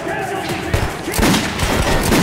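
Rapid shots ring out in a Metro 2033 Redux video game firefight, with a dense volley building in the second half, loud and near, while someone talks over part of it.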